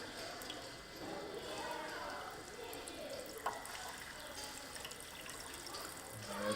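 Water runs across a recently tilled farm field with crop residue inside a rain simulator bin, a steady, faint trickle and wash that continues throughout with a soft background hiss.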